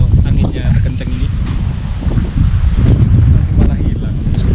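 Strong wind buffets a hillside at Watu Dukun in Wonogiri, a loud continuous roar and rumble of gusts battering the microphone, with rustling underneath and no voice heard.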